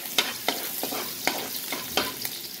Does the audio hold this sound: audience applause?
no